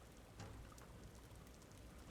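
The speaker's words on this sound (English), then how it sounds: "On my screen, it's raining." Rain falls steadily in the Elder Scrolls Online video game, a soft, faint patter with no voices over it.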